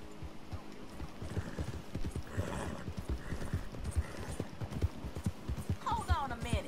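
Horse hooves clip-clop steadily at a gallop during a race in Red Dead Redemption 2, with a whinny near the end, all under continuous voices talking.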